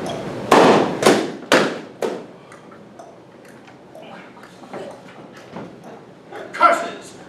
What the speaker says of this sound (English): did you hear that shot?